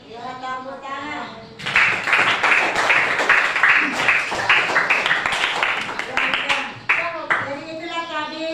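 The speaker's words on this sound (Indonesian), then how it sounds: "Ya, tepuk tangan." A classroom of students clapping together, a dense burst of applause lasting several seconds between stretches of a nearby voice talking.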